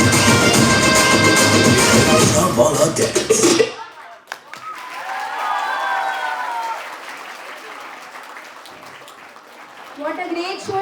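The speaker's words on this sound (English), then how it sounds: "Dear parents, a huge round of applause for our little tiny tots." Parents applaud a children's dance at a school annual day, with loud, dense clapping for about four seconds before it cuts off abruptly, leaving quieter room sounds and voices.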